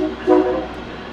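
A short, loud train horn blast in Chicago sounds briefly over a steady background rumble.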